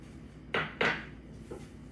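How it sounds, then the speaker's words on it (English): A utensil scrapes and knocks against a mixing bowl while butter and sugar are creamed, giving two close clinks followed by a fainter third, with no talking. "Now we're going to add in our sugar to our butter, and we're going to cream the two together."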